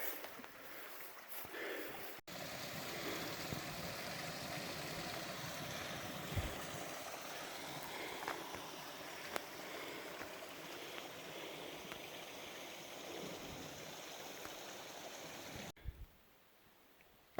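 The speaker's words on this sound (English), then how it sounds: "the creek's right over there" A creek runs through a foggy forest near a forest road on Black Mountain near Fredericktown, Missouri, making a steady rushing wash of water that continues unbroken and fairly close, with no talking, before cutting off near the end.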